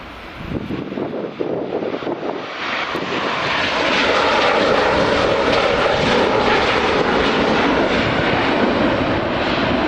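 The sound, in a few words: Ryanair airliner landing on runway 24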